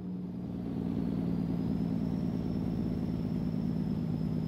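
A heavy truck pulling five trailers in Euro Truck Simulator 2 holds a loud, steady rumbling roar with a pulsing, throbbing engine-brake exhaust tone and a faint high whine.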